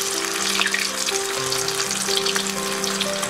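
Corn kebab rolls hiss and bubble in hot oil, a dense, continuous sizzle close up with a low steady hum beneath and no voices.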